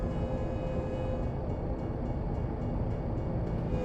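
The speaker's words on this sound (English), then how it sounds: "There's a train coming. There it comes." A train rumbles steadily past in the video game American Truck Simulator, a continuous low mechanical roar with a faint horn tone, no talking.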